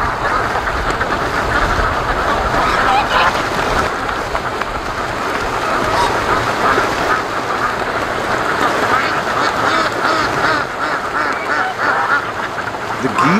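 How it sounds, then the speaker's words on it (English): Free-range geese and ducks on a creek near a lake honk and quack loudly and excitedly, their calls overlapping constantly and close by, with wind buffeting in the background. "The geese are going crazy."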